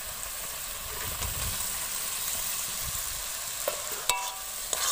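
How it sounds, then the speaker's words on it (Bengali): Ivy gourd pieces sizzling in cooked masala in a pan give a steady close frying hiss with low stirring rumbles, and a couple of sharp utensil knocks near the end, no voices. "এবার আমি কুঁদরিটা দিয়ে দেবো।"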